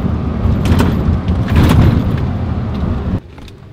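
A truck with worn bushings and rear leaf springs being driven on the road, heard from inside as a loud, low engine rumble with road noise and a few thumps, then dropping off abruptly near the end.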